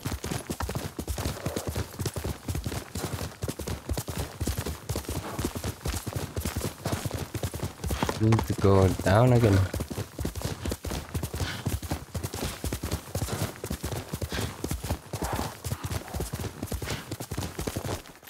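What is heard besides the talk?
horse galloping hooves in Ghost of Tsushima video game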